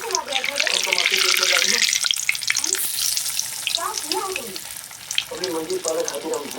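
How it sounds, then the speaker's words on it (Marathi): Banana vadas frying in hot oil, a loud steady sizzle with bubbling, with a voice speaking over the cooking. "केळीचे वडे तळून घेणे"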